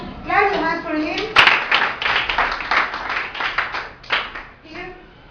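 Children in a school classroom play clap their hands, a burst of close, loud clapping that starts after a child's speech, continues in irregular claps, then tapers off as voices return.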